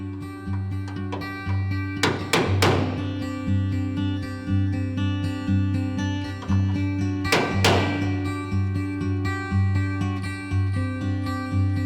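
Two hammers tapping sheet metal on the roof of a 1970 Holden HG ute during rust repair, giving sharp ringing metallic strikes in a couple of clustered bursts over a steady low hum.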